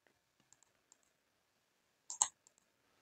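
Computer mouse clicks while drawing and offsetting objects in CAD software: a few light, sparse single clicks, then a louder double click near the middle, followed by two more soft clicks, close and alone.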